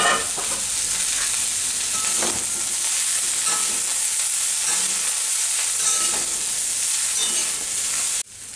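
Vegetables and noodles tossed together in a hot pan while making veg Hakka noodles, giving a steady loud sizzle with scraping stir sounds throughout, cut off abruptly near the end.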